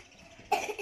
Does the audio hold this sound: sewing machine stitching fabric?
no